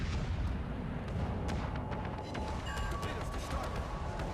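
A battleship's secondary guns fire in World of Warships Legends aboard the Nassau, with rapid scattered booms and pops over a constant roar of naval combat.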